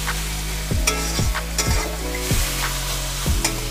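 Banana flower stir-fried in spice paste with prawns for a traditional Bengali ghonto, a steady close sizzle broken by regular scraping strokes of a spatula in the pan, no talk.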